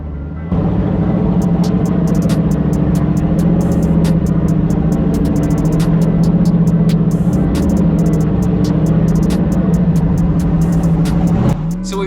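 A home-built Jeep Wrangler's engine drones loud and close as it climbs the Turkey Claw rock trail at King of the Hammers, with scattered clicks and a brief shift in engine pitch near the end.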